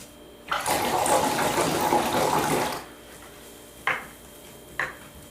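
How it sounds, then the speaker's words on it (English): A paintbrush is swished and rinsed in a water jar for about two seconds, a loud close splashing, followed by two quick taps of the brush against the container. "give it a little bit of a rinse"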